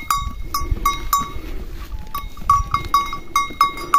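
Goats bleat on a farm, a goat with a kid among them, with repeated short nasal calls in quick succession, fairly close and loud over rustling background noise.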